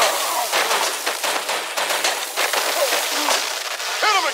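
Gunfire in the Batman: The Enemy Within video game, a dense crackle of rapid shots mixed with chaotic action noise, while characters shout in short bursts.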